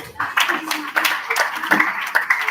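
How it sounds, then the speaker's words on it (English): Students of Edo Boys High School clap for themselves at a 31-year reunion gathering, scattered hand claps under and between talking voices, moderately loud and uneven. "please clap for yourselves"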